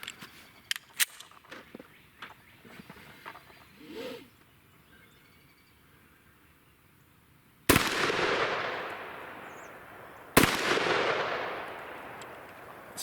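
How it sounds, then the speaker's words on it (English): Two sharp, loud 10mm pistol shots from a Springfield XDM 3.8 at an outdoor range, each cracking out and ringing off into a long decaying tail, spaced a few seconds apart after quieter handling clicks and rustle. "I grab the right gun and shoot the right target"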